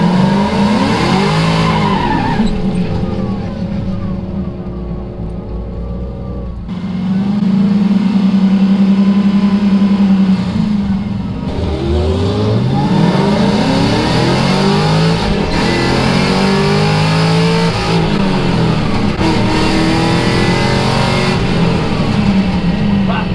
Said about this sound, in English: We'll give it more RPM off the launch. Same type of burnout, and then we'll go from there.